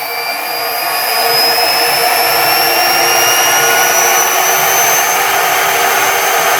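A CNC spindle motor driven by a Gecko G540 controller runs steadily at speed, a smooth, fairly quiet high whine with faint rising tones, spinning up slightly at the start and then holding constant.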